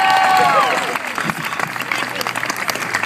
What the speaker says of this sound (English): One more round of applause for Little White Chocolate.